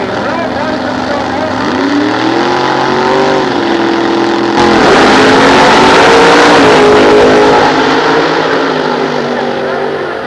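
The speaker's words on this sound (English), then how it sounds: "Mel Bryson, they're side by side at the light." Gasser drag race cars roar side by side at the 1993 Goodguys Nostalgia Drags at Sears Point, a loud, sustained engine howl with a sudden surge midway as a commentator talks over it.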